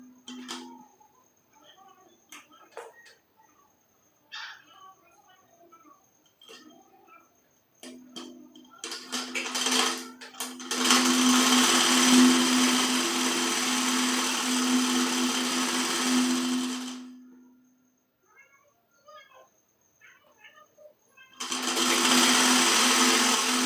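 A sewing machine stitching a kurti, with scattered clicks and handling noises before two bursts of steady motor whirring, a long run and then a shorter one starting near the end.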